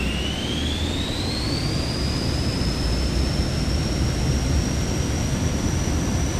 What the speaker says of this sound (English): Thrust levers set to takeoff position.